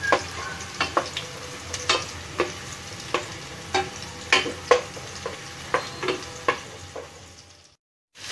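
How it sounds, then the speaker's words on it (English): Garlic, onion and ginger sauté in a hot pan with a steady sizzle, while a utensil stirs and taps against the pan in frequent clicks and scrapes, close and loud, ending abruptly. "kailangan maganda yung pagkakagisa natin para lumabas talaga yung lasa ng ating bawang at sibuyas at luya"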